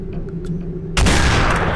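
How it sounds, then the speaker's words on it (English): A single loud sniper rifle shot in a video game bursts out after a quiet moment, with a broad booming report that rings on to the end. "I don't have any ammunition, but I do have a sniper rifle."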